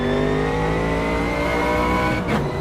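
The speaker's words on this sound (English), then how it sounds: "This kind of low grumble." Low, grumbling exhaust of a race car in Automobilista 2, a loud continuous engine drone that holds steady, then a brief sharp burst near the end.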